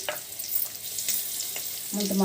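Ginger pieces fry lightly in ghee for pongal, giving a steady soft sizzle throughout with a brief brighter crackle near the end, fairly close and without talk.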